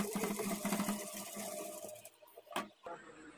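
A sewing machine stitches piping onto a blouse edge in a steady close whir that cuts out after about two seconds, followed by brief handling clatter, with a voice faintly under parts of it.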